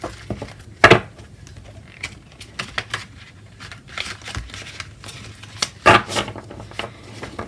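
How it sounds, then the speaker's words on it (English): Oracle cards, an embroidered graveyard deck, slide and riffle in a sideways shuffle, with scattered close papery flicks and two sharper bursts of card slaps, no voices. "Let's check a sideways shuffle."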